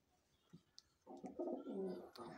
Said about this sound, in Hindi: कमेंट में बताइएगा कि कैसे लगे ये मद्रासी कबूतर,